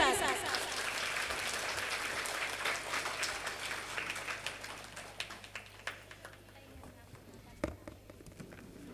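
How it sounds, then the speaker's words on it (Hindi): Audience applause at a madrasa prize-giving ceremony in Lucknow, loud and dense at first, then thinning into scattered individual claps toward the end. "कस के तालियों के साथ।"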